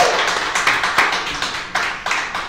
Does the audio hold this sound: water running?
no